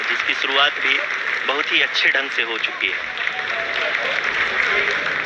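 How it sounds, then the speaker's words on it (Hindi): Applause ripples through the ISRO mission control room during the Chandrayaan-3 lunar landing's vertical descent phase, a busy clapping wash running under a Hindi commentator who talks over it. "आप तालियों के गड़गड़ाहट से सुन सकते हैं"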